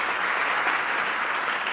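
A concert audience at a Christmas show claps in dense, sustained applause, a steady wash of many hands with no pauses.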